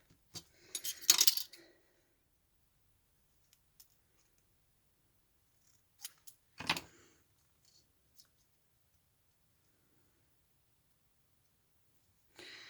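Scissors cutting craft material for handmade embellishments, giving a few short, crisp snips and clicks separated by long near-silent pauses, quiet and close.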